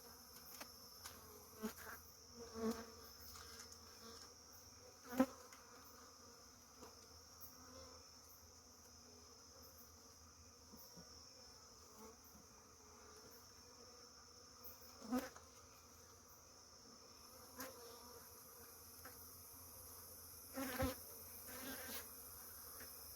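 Bees drone steadily throughout a hive cut-out, a close, continuous buzzing with scattered soft knocks and bumps from the work. No one speaks.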